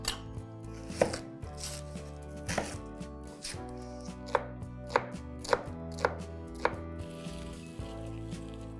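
Knife chopping onion on a cutting board to pickle with lemon juice, the blade striking the board in a steady series of crisp, close thuds while background music plays underneath.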